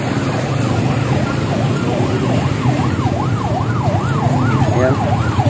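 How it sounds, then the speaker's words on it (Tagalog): Several emergency vehicle sirens wail in steady rising and falling sweeps over the rumble of busy street traffic. The sirens are moderately loud and sound fairly close. "May naririnig kayong mga wangwang ngayon"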